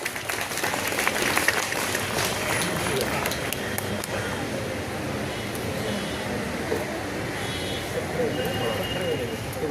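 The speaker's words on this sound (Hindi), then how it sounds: "एक बार जोरदार तालियां हो जाए।" An audience at a college foundation day ceremony claps steadily in a continuous, moderately distant wash of applause, with faint crowd noise beneath.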